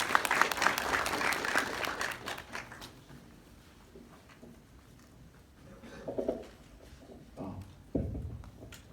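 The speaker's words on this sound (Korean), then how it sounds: "큰 박수로 다시 한번 모시겠습니다" An audience claps to welcome a speaker at a university finance lecture, a dense burst of applause that fades within a few seconds, followed by quiet room sounds and a few scattered knocks.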